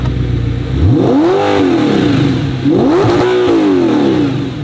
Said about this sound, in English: Naturally aspirated V8, baby.